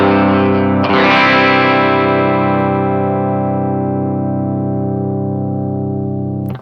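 An electric guitar run through an aggressive EQ pedal rings out as one sustained, heavily distorted chord, struck once and left to decay slowly over several seconds before being cut off.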